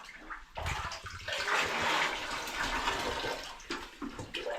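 Water poured and splashing during a bath for Harry, a Persian cat, a loud close rushing gush that runs steadily for a few seconds before tapering into smaller splashes.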